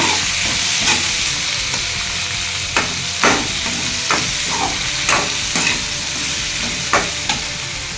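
Vegetables with brinjal and broad beans sauté in a hot pan, a steady sizzle broken by several sharp scraping stirs of a spoon, loud and close, with no talking.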